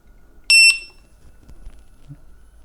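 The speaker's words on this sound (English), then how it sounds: "you're going to hear that beep, and then there's going to be a secondary tone" A bright electronic double beep rings out once from an Extreme Bull Commander, followed by quiet background and a faint low secondary tone; no voices.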